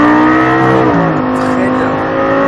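A Lamborghini Gallardo 560 on a race track roars loudly up close, its engine note climbing and then stepping down in pitch as it shifts.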